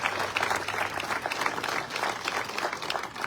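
Sustained applause from a large crowd at a celebration of life for a coach, dense clapping filling the room continuously and steadily without pause.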